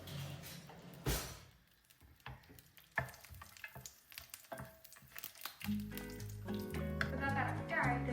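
Raisins and cashews frying in hot ghee in a pan, soft crackling sizzle with a few sharp clatters early on, then a fuller, busier frying texture building toward the end; quiet and close.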